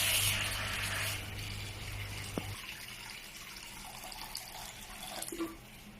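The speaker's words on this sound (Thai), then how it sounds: "ขั้นตอนต่อไปเทน้ำจิ้มลงไปเลยนะคะ" Dipping sauce pours into a pan as a soft, steady liquid stream for about two seconds, then stops, followed by faint kitchen clatter and quiet handling sounds.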